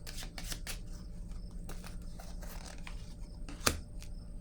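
Tarot-style cards placed and shuffled on a table during a card reading: soft, scattered papery swishes and light taps with one sharper snap near the end, close and quiet, with no talking.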